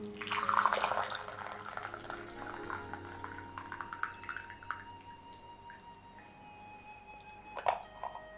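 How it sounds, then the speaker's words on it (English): Hot water is poured over Dancong oolong tea leaves in a rinse, a soft splashing trickle near at hand that fades into quieter dripping, with a faint ceramic clink toward the end. "I'm rinsing it for longer than I usually rinse teas."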